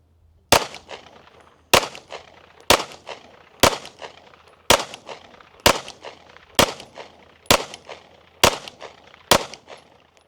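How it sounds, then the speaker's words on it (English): An EAA Girsan MC9 Disruptor pistol fires a group of ten shots, sharp loud reports spaced about a second apart with short echoing decays, no talking. "we got 10 more rounds of my Steel Valley casting. Let's load off the slide lock. Very nice. Shoot a group top left target."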